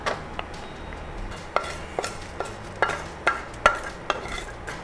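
Tempering goes into a paneer gravy as a metal spoon taps and scrapes the pan in a string of sharp, evenly spaced clinks over a faint sizzle.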